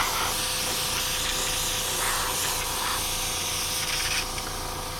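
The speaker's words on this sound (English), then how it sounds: "So first thing I'm going to do is just spray this cleaner through." An airbrush sprays cleaner through its canister, giving a loud, steady, close hiss that holds without a break throughout.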